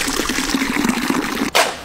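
A short, splashy rush of water pouring out steadily, fairly close and loud, then cut off by a brief burst near the end, with no voices.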